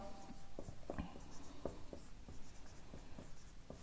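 Chalk or marker writing on a board while a maths problem is worked out, heard as a series of short, sharp scratchy strokes in an irregular rhythm, close up and fairly quiet.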